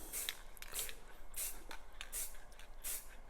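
A spray paint can lays down black paint in short, light bursts, five hissing sprays spaced about half a second apart, close and fairly quiet, with no talking.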